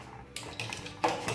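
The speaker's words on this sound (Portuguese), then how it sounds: "vou tampar a panela" Metal lid placed onto a cooking pot of yellow corn canjica: a few close, faint clinks and scrapes of metal on metal in quick succession, with no talking.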